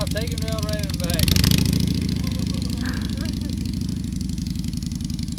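A motorcycle engine runs steadily while being ridden across grass, a loud continuous throbbing drone that swells briefly, with people talking over it at the start and again midway.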